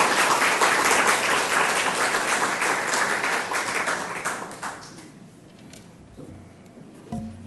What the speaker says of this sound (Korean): 여러분 한번 박수 한번 해주시기 바랍니다.